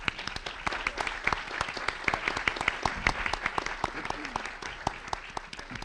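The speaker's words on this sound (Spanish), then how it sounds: "para quien les pido por favor un aplauso" An audience at an electoral forum panel applauds as a speaker is introduced, with a steady, fairly sparse patter of many hands clapping throughout and individual claps clearly audible, moderately quiet.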